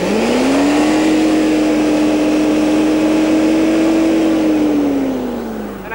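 A 1990 Lexus LS engine held at a loud, steady 6,000 RPM, a smooth sustained high drone close up that eases off slightly at the end.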